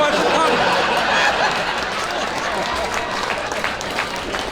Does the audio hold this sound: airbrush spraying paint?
no